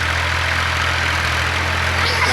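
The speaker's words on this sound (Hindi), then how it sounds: "ये आ रहा है, ट्रैक्टर आ रहा है सामने देखें" A tractor engine rumbles steadily in a village, a continuous low mechanical drone with a faint knocking edge that stays loud and close throughout, with no voices over it.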